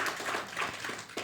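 Church congregation at a women's service claps together, a brief burst of scattered, moderately loud hand claps filling the room with no talking.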